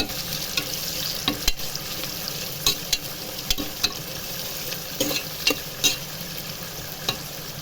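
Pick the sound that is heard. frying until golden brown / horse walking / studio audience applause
frying until golden brown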